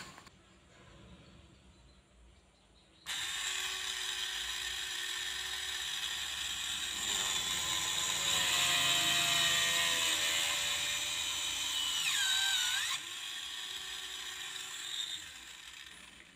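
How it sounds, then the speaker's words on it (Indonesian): Homemade drill press built from salvaged parts bores through a PCB board, its motor whirring steadily and loud for about ten seconds with a pitch dip near the end before stopping, alone without talk. "Yang pertama kita akan mengebor plat PCB dulu."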